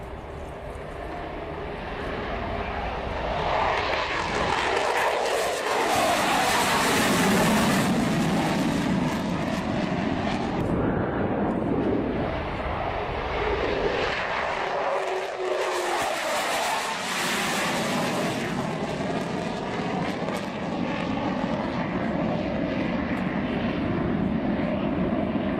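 Aircraft departing the Fairford air show roar past close and loud, with two big swells of engine noise building and fading one after another, and a steady rumble remaining in between.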